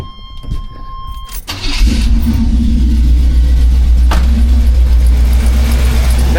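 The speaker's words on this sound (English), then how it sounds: "we should be able to just fire it right up" A Jeep Cherokee XJ starter cranks briefly, then the engine catches and settles into a loud, steady idle rumble that continues to the end.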